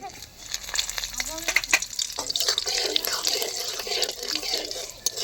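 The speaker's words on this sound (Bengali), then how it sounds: "এবার আমি ফোড়ন দিয়ে দিচ্ছি" Whole spices sizzle as they drop into hot oil: crushed cardamom, a clove, a piece of cinnamon, bay leaf and cumin. A bright, close spitting crackle with sharp pops swells from a quiet start and keeps going.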